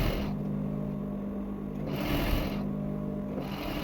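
Sewing machine stitching a sleeve into the armhole of a draped cowl-neck dress with spaghetti straps, running continuously with a steady mechanical hum and rhythmic needle clatter that rises and falls slightly in speed.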